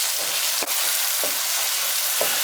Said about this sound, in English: I'm going to mix that in